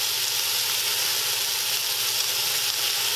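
Onions, green pepper and celery sautéing with meats in a pot for jambalaya, a loud, dense sizzle that holds steady and unbroken from start to finish.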